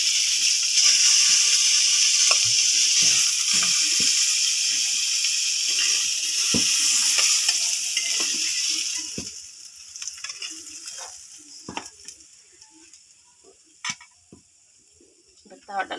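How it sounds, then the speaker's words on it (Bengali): Koi fish fry in oil on a flat pan with a loud, bright sizzle for the first half. The sizzle then dies down to scattered clicks and light scraping sounds. "এরকম লাল লাল করে ভাজতে হবে"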